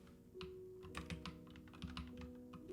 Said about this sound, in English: Great typing, Pascal.